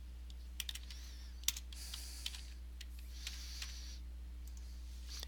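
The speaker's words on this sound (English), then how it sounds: "I can just double click and start typing in there." Light typing on a computer keyboard, a sparse scatter of soft, quick key clicks with brief gaps over a low steady hum.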